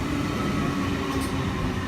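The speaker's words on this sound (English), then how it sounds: "Train time. Train is fast." A passenger train heading toward Adelaide gives a steady low rumble and rolling hum, heard from inside close up with no talk.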